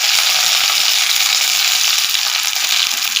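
Mustard seeds splutter in hot oil for a Tamil snack recipe, a loud, close, steady hiss of frying dotted with quick crackling pops.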